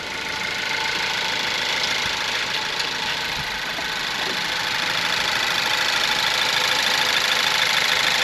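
A 2017 Ford Focus engine idles steadily while warming up to temperature, a constant close mechanical hum with faint knocking texture and no talk.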